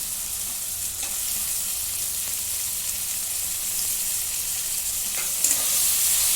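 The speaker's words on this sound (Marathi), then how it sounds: "आता दोन मिनटं परतून घेते" Steady, continuous sizzling of dried Bombay duck fish frying in a pan, a dense bright hiss throughout with a brief stir near the end.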